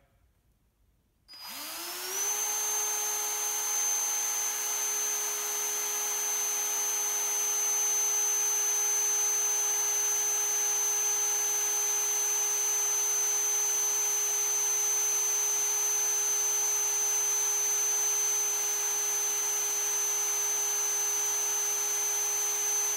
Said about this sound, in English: No belts, gears, chains, just a magnet on a drill.